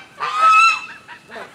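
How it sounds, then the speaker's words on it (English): Loud, nasal goose honks close by on a farm, several calls overlapping in a noisy burst, then quieter honks trailing off. "stupid geese are walking by"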